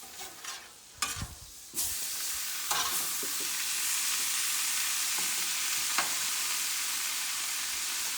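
Butter and rice frying on a Blackstone griddle set to medium high: a few scraping stirs, then a loud steady sizzle that holds for several seconds, with no voices.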